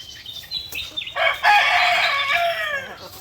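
Chickens, including aseel and shamo gamefowl, cluck in short bursts, then a rooster lets out a long, loud crow close by.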